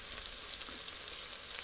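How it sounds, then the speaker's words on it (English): Onions caramelizing in a pan over a medium flame, giving a soft, steady sizzle and crackle of frying that stays fairly faint and continuous throughout. "on a medium flame, I'm just caramelizing my onions"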